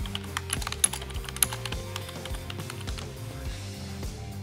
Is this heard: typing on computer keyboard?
yes